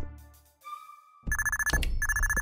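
In a horror video game a telephone rings in bright repeated electronic bursts after a few quiet tonal notes. Two loud ringing spells are separated by a brief gap, close and clear with no talk.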